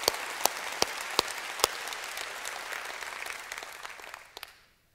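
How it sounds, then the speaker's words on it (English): A church audience gives a round of applause: steady clapping with several loud, distinct individual claps standing out near the front, fading quickly to silence at the end. "I think you're worth a big round of applause."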